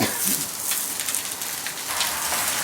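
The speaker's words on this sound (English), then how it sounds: "just seal the lamb shanks on high heat underneath there" Steady, loud sizzling and crackling of lamb shanks searing on a very hot barbecue grill over high heat, a continuous hiss with small pops throughout.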